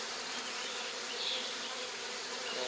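Honeybees buzzing inside a hive during a heatwave as a male drone emerges, a dense, steady hum from many insects close by with no voices.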